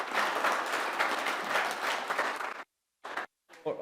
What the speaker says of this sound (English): yes, that's a round of applause